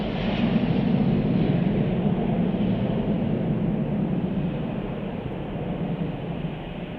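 An airliner arriving at Chicago O'Hare Airport, a loud, sustained low jet rumble and roar heard from outside that eases slightly over several seconds.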